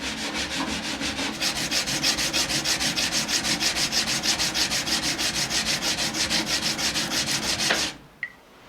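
A Japanese kitchen knife scraped steadily across a whetstone in close, loud, rhythmic back-and-forth grinding strokes that go on for about eight seconds and then stop abruptly, leaving brief quiet.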